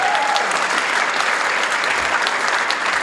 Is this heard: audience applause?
yes